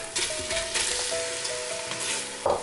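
Beef chunks sizzle steadily as they drop into a hot Instant Pot already holding Dijon mustard, a continuous close frying hiss with a few stirring scrapes and a louder burst near the end.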